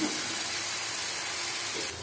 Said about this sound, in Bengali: এগুলো সব একসাথে ভালো মতো মশলাগুলো কষায় নেব।